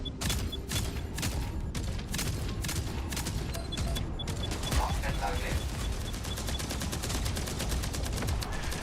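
Rapid Pulse Cannon in a video game, upgraded to Mark III, fires a dense, continuous barrage of rapid pulsed shots that stays loud and steady throughout, with crackling bursts layered over a heavy low rumble.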